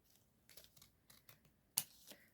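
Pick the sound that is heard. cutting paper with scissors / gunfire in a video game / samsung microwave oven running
cutting paper with scissors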